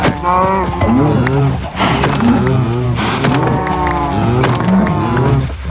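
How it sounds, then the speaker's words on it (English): Many Minecraft cows moo in overlapping, repeated calls, a loud, dense herd of drawn-out lowing with rising and falling tones. "There's so many fucking cows."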